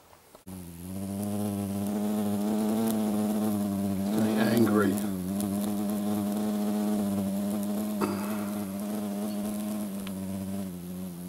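An Asian giant hornet (Vespa mandarinia), about twice the size of a normal wasp, buzzes loudly and continuously close by in a forested area in Switzerland, its drone wavering slightly in pitch throughout.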